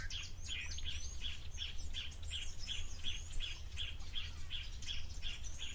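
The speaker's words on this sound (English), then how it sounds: "some little blue wax bills" Blue waxbills at a waterhole give a rapid series of very high, thin calls, repeated evenly and fairly close over a low steady background hum.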